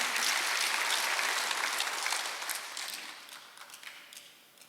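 A church congregation applauds during a Sunday worship service, loud dense clapping that starts strong and gradually thins and fades.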